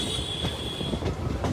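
A train at Abhaypur railway station in Lakhisarai district, a loud rumbling run with a sustained high wheel squeal and rhythmic clatter, heard close by without talk.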